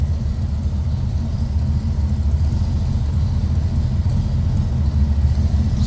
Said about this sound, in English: Nice sounding V8.